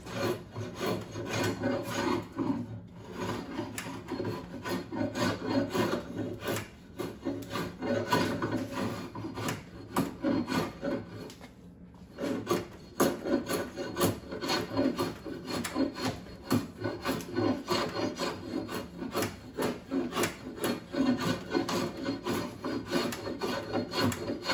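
An ash longbow stave is shaped by hand with a rasp or file, giving repeated rhythmic scraping strokes against the wood at close range, with a couple of short pauses.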